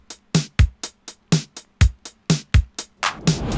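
A retro LinnDrum-style drum machine beat plays alone: punchy kicks, crisp snare hits and hi-hats in a steady, tight pattern, close and loud for a few seconds.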